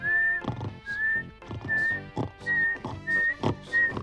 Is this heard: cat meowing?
no